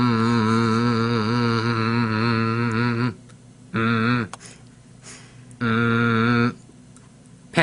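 A human voice imitates a hummingbird call with sustained, strongly pitched harmonic squeals in long bursts separated by brief pauses, loud and close.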